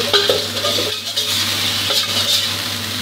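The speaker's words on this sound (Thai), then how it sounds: "เนี่ยครับผัดให้น้ำปลาเคลือบกระทะหอมๆนะครับ" Cabbage sizzles loudly in a hot wok as fish sauce is stir-fried to coat the pan, while a utensil scrapes and clatters against the metal in quick, uneven strokes.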